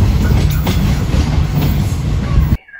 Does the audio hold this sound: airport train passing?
yes